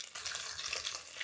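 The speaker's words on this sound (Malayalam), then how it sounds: "നമുക്കിനി 1 ടീസ്പൂൺ കടുക്, 1/2 ടീസ്പൂൺ ഉലുവ, പിന്നെ നമ്മൾ അരിഞ്ഞു വെച്ചേക്കുന്ന കുറച്ച് ഇഞ്ചി ഇട്ട് കൊടുക്കുന്നുണ്ട്" Mustard seeds, fenugreek and chopped ginger crackle and sizzle in hot oil in an uruli, a short, steady close frying hiss with no voices.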